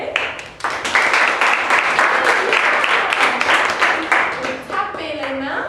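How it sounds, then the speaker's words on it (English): A classroom of students claps hands together in a sustained, loud burst of applause lasting several seconds, with a few voices rising near the end as it fades. "Ah, applaudissez."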